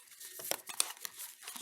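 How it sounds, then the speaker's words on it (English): DropMix card decks are shuffled and pushed together, giving soft, close crinkling and riffling bursts with a few sharper flicks, quiet and without speech. "So I am just going to put 2 of the decks together,"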